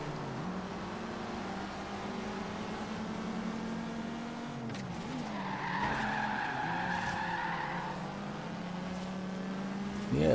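Audi RS2 Avant drifting in the racing game Forza Horizon 3: a sustained engine drone with a rising, wavering tire squeal in the middle as the car slides, continuous and game-mixed.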